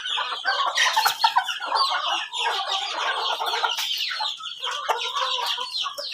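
A flock of Filipino chickens kept by a village poultry farmer clucks and chatters busily at feeding time, with many overlapping calls and an occasional crow, close and continuous.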